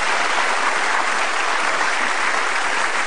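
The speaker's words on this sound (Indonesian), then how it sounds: "Kasih tepuk tangan dong Pak Sofyan Djalil." A studio audience at a televised talk show applauds for Sofyan Djalil, a dense, even wash of clapping that stays loud and constant for the whole stretch, with no talking on top.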